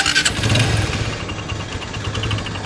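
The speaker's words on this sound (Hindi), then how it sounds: "और अब मैं बाइक को स्टार्ट कर देता हूं" A motorcycle engine cranks and catches, then settles into a close, steady idle with a fast rhythmic putter, during an engine flush.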